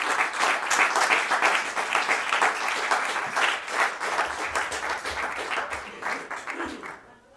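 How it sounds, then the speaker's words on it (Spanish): A church congregation breaks into loud, sustained applause, with many hands clapping close together in a dense patter. The clapping holds for about seven seconds, then tapers off as a voice begins. "Denle un aplauso al Señor."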